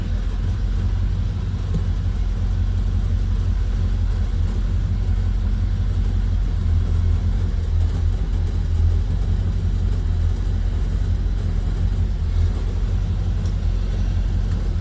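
A 1964 Ford Galaxie V8 with a freshly fitted 150 amp alternator idles steadily at close range, giving a low, even rumble that holds without interruption and has no talk over it.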